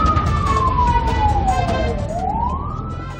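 An ambulance siren wails loudly in a falling then rising sweep over a low rumble of traffic, heard close by in a city street.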